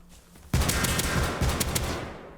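An LR-300 rifle in the game Rust fires a rapid automatic burst after a brief quiet moment, a dense string of loud, close shots lasting about two seconds.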